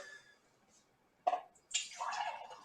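A 12-cup drip coffee maker brews organic coffee, giving off faint dripping and a louder gurgling, hissing burst of water near the end, with no talk.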